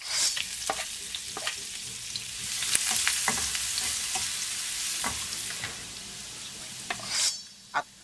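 Garlic sizzling in butter in a pan for a creamy spinach soup, a continuous close frying hiss punctuated by clicks and scrapes of a utensil against the pan, with a louder clatter near the end.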